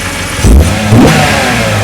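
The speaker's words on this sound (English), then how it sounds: "The CSL's lighter, less restrictive exhaust system actually gave these cars a more distinctively raspy tone" A 2003 BMW M3 CSL with its lighter, less restrictive exhaust revs sharply twice in quick succession, the raspy bark loud and close before settling back to a rough idle.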